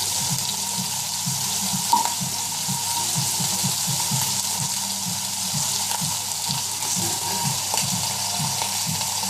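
Seafood frying in a hot pan, spitting and sizzling steadily up close with a continuous hiss, while cream is poured in; no talk.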